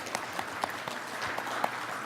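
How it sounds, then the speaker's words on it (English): A conference audience gives a brief, fairly faint round of applause, scattered claps heard from a distance. "Perhaps a quick round of applause for all the staff that did organize that very lovely social."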